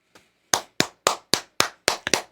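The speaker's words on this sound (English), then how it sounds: "Little round of applause for my man" Several people clapping for a guest on a radio program, about eight loud, distinct claps close to the microphone in a quick, even rhythm with no talk.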